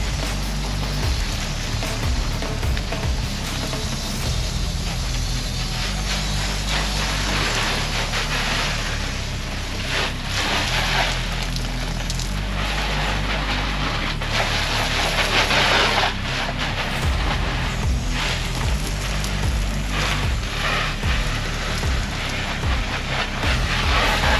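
Water spraying and pattering on a Decathlon MH50 two-person camping tent during a rain leak test, a loud, continuous dense hiss close by with no speech.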